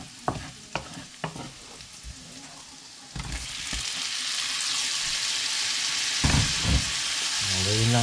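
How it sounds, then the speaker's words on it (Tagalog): Shrimp frying in a pan with browned garlic, sizzling steadily throughout with stirring knocks and scrapes, louder and fuller in the second half, with no talking. "Pwede na natin ilagay yung shrimp natin."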